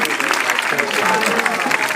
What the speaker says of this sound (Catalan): un fort aplaudiment per Magatzem